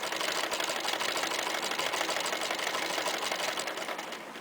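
A sewing machine stitches a straight seam in fabric, running in a continuous rapid mechanical whirr at an even speed, close and alone, tapering slightly at the end.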